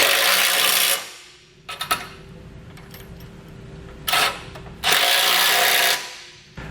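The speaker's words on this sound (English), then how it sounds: "we can tighten these down with a 15mm socket and wrench" A ratchet wrench with a 15mm socket tightens bolts while a base plate is fitted to a vehicle, coming in loud bursts of rapid clicking separated by quieter stretches of small metallic clinks.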